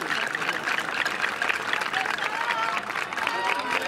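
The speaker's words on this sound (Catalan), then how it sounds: "un fort aplaudiment" A festival crowd at the Festa Major de Sant Climent claps steadily and loudly for a stick-dance (ball de bastons) troupe, dense applause filling the whole stretch with a few cheers mixed in.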